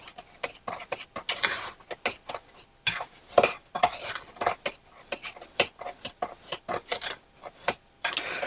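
A spoon repeatedly scraping and clinking against a bowl while celery seed and sugar are stirred together for homemade chow chow relish, with an irregular, close, brisk rhythm.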